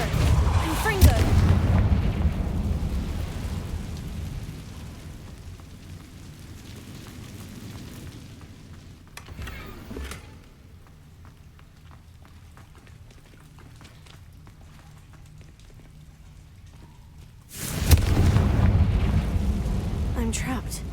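Confringo fire-blast spells explode in Hogwarts Legacy: a loud, booming burst at the start and another near the end, with a quieter low rumble and faint crackle between them.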